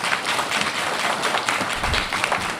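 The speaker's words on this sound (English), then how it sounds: "we don't have applause in board meetings. I allowed the first one." Applause from the audience at a special school board meeting: a short, steady patter of many hands clapping together, moderately loud and continuous throughout.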